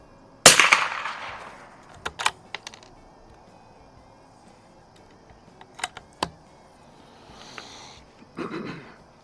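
A single sharp gunshot from an H&R M12 rifle firing Federal ammunition rings out early and decays, followed by scattered metallic clicks and handling noises nearby.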